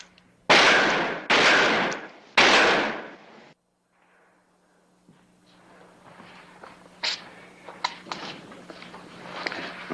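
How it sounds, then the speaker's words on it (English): Three loud, sharp gunshots strike a steel sheet propped against a wall, each ringing off briefly, followed after a silence by fainter scattered clanks and thuds. "you've wasted your bullets and dented up my steel"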